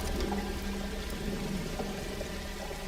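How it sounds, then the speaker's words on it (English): Rushing, pouring water filling a flooding space in the Alone in the Dark video game, a steady churning gush with no pauses. "The water's rising very fast."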